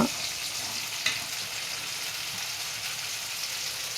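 Onion and tomato frying in a pan for a village-style cabbage fry, giving a steady close hiss of sizzling oil throughout with one brief clatter near the start and no talk.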